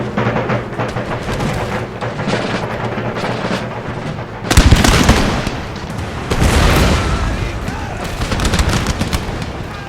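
Musket volleys from massed troops in the strategy game Empire: Total War crack out in loud, dense bursts, a sharp mass of gunfire striking midway and another wave following, over constant battlefield rumble.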